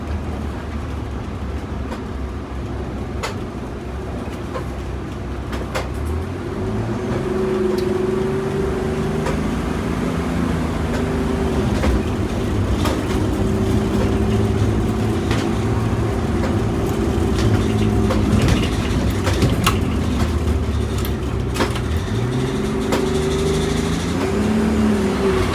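A 35-foot Prevost bus with a Detroit Diesel 6V92TA engine runs and pulls away, its low diesel drone climbing and falling through gear changes over a long stretch, with no talking.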